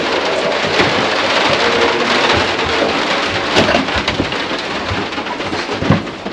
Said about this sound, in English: We've got a little bit of rain.